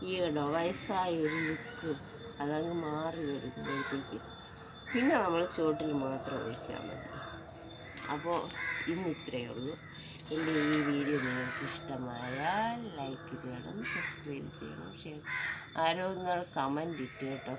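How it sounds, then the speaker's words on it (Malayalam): Hundreds of crows caw from the trees overhead in a garden, their harsh calls scattered through the background while a person talks steadily in the foreground. "ഞാൻ ഇരിക്കുന്നതിൻ്റെ തൊട്ട് മുകളിലുള്ള മരങ്ങളിൽ പല മരങ്ങളിലായിട്ട് കൂടി 100 കണക്കിന് കാക്കയുണ്ട്."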